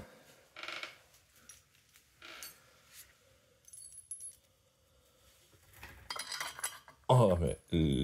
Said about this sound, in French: On remet le boulon avec les rondelles.